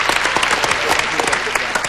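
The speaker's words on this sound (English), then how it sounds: "we applaud the guest" A game show studio audience applauds a guest after a fast round of Go, a dense, steady clapping wash that holds at full strength for the whole two seconds.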